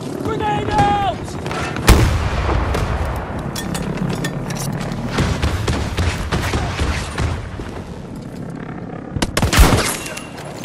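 Battlefield 2042 conquest match audio with a dense barrage of gunfire and heavy booms, including a loud grenade-like blast near the start and another burst near the end, with radio-style voice chatter underneath.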